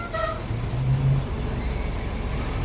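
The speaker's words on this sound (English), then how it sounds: "That was a truck leaving the parking." A truck pulling out of a parking lot on a New York City street, its low engine rumble swelling briefly then settling into steady traffic noise, with no talk.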